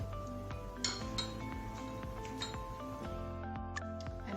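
Metal utensils toss raw papaya salad in a bowl, giving a quiet run of small clinks and taps against the dish with faint squishy mixing, close up and without talking.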